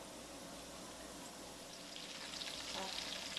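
Tortillas fry for chilaquiles until brown and crispy, making a steady, even sizzling hiss in oil that swells slightly toward the end, fairly quiet and uninterrupted.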